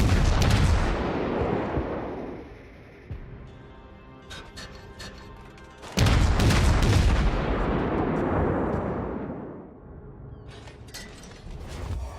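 Naval guns thunder in a World of Warships battle as a cruiser fires on battleships: two heavy booming salvos, one at the start and another near the middle, each trailing into a rumbling decay with scattered smaller blasts between.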